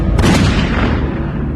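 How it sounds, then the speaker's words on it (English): A single loud gunshot booms close by inside a house, its blast rolling into a long decaying reverberant tail. "Then he hears a gunshot."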